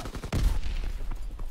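Video game gunfire crackles in tight, rapid bursts, one heavy close shot standing out early, then quicker trailing pops with no voices.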